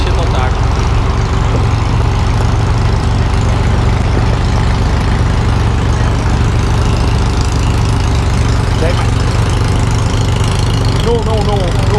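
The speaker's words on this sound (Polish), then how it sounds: "jak się steruje promem, to robi się to tak." A ferry engine runs loud and steady throughout, a constant low mechanical drone with some clatter on top.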